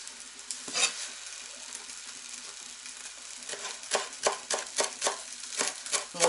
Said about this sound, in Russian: Здесь я буду уже другое мясо обжаривать.